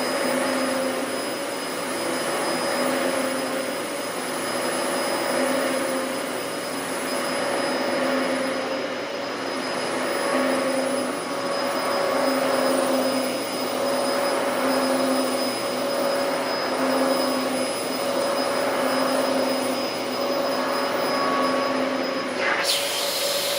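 A Dyson DC14 vacuum cleaner runs steadily over carpet sprinkled with baking soda, a loud continuous motor whine and airy roar with slight rhythmic swells from back-and-forth passes, close and unbroken.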